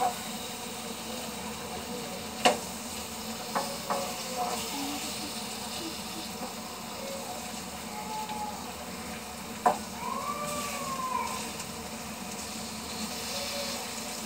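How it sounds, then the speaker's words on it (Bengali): Pointed gourd (potol) slices fry in a pan with a soft, steady sizzle under low background noise, broken by a few sharp clinks and taps of a utensil. "এভাবে সবগুলো পটল আমি ভেজে নিব।"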